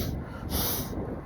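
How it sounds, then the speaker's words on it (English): A person blows their nose in one short, forceful, breathy snort, close and loud. "Oh, let me blow my nose."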